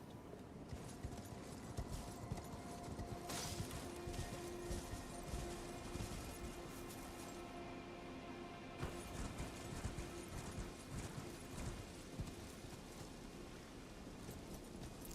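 Torrent, a spectral steed ridden in a video game, beats out a steady run of close hoofbeats over a constant background bed, with a few louder bursts along the way.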